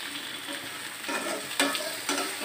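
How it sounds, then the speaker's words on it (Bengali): Beans, potatoes and other vegetables sizzle in oil left over from frying fish, a steady frying hiss broken by a few sharp scrapes of stirring close by. "ওই মাছ ভাজার তেলে আমি সবজিটা ঢেলে দিয়েছি।"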